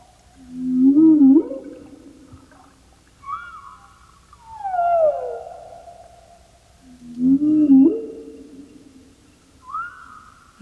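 Southern right whales call underwater with drawn-out tonal moans and upswept whoops, four or five calls spaced a few seconds apart, some low and rising, others higher and sliding downward, clear against quiet water.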